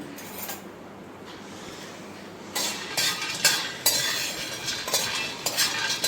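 Peanuts roasting in a pan over a low flame are stirred, giving soft scraping and light rattling that start faint and grow into repeated, close strokes, with no voices.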